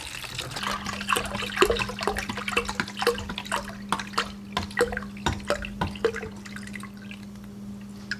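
Metal Rescue rust remover liquid trickles and drips into a bath in a run of close, irregular splashes over a steady low hum, tapering off toward the end.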